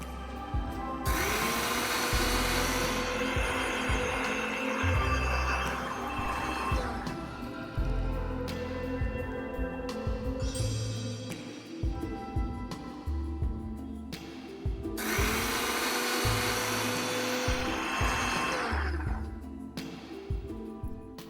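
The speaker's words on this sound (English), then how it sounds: "Let's remove this and grind it to a fine paste." A kitchen mixer grinder whirs loudly as it grinds a coconut mixture into a fine paste, running in long bursts with brief pauses between them, its motor pitch dropping and restarting for a Kerala chicken curry.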